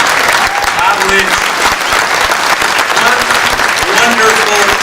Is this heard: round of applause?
yes